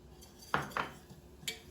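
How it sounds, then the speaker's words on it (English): Flour being whisked into hot oil in a pot for a roux, with a few quick metallic scrapes and clinks of the whisk against the pan, close and fairly quiet, no talking. "Once the oil is hot, we're just going to whisk in the flour"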